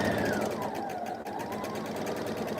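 A sewing machine runs steadily, stitching tumbling block quilt pieces with a fast, even mechanical rhythm, close and continuous throughout with only a brief dip midway.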